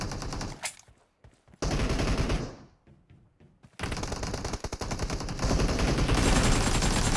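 Automatic AKM and M416 rifle fire in a shooting video game, loud bursts of rapid shots broken by short pauses, then sustained continuous firing.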